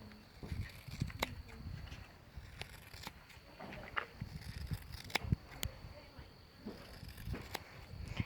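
Sharp, irregular snipping clicks of scissors cutting through a mule's coarse mane, fairly quiet, with soft rustling and shuffling between cuts.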